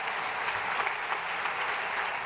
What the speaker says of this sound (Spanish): Un aplaudimiento, un aplauso, por favor